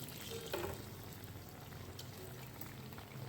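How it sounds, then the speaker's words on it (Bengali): Palm-fruit malpua frying gently in oil on a low flame, a soft, quiet, steady bubbling sizzle with faint pops. "তারপরে এটা লো ফ্লেমে ভাজা হচ্ছে।"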